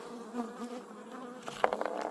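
Honeybees buzzing at a backyard hive, a steady low drone that rises into a busier, louder swirl of passing bees near the end, with no voices.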